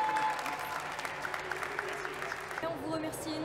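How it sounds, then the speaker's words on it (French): An audience claps at the Japan Expo 2025 awards, with steady dense applause from a crowd that thins out near the end while a voice talks over it. "Est-ce qu'on peut les applaudir bien fort,"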